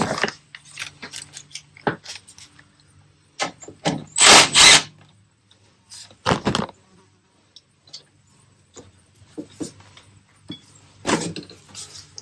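A 1986 Honda Fourtrax 4x4 ATV gets wrenched on to remove a bolt, giving scattered metallic clicks and ratcheting taps with a couple of louder grinding bursts, all close up and with no one talking.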